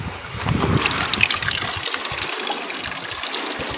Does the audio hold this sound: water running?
yes